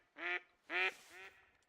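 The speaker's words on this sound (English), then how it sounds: "Oh, there's a whole bunch of ducks there." Ducks in theHunter: Call of the Wild quack in three short, nasal calls, the first two louder and the third softer, close by and with no talk over them.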